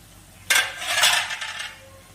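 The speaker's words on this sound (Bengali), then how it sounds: "10 মিনিট পরে ঢাকনাটা খুলে নিলাম।" A metal lid lifted off a cooking pot of dried fish curry (lote shutki chochchori): one sharp metallic clank followed by a brief ringing scrape that fades over about a second, close and fairly loud, no talking.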